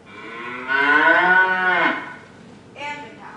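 Cow mooing sound effect played during a middle school play: one long, loud, close moo lasting about a second, then a shorter, fainter follow-up moo, with no talking over it.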